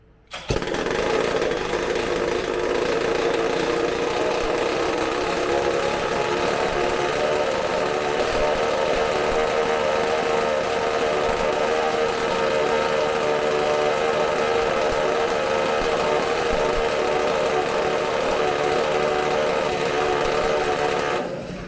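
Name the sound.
McCulloch supercharged chainsaw engine running on bench test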